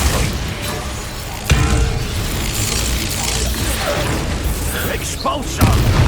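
Confringo blasting spell in the video game Hogwarts Legacy, with a sudden booming burst followed by a rumbling, crackling blast, thick with mechanical clatter and spoken voices amid ongoing battle noise.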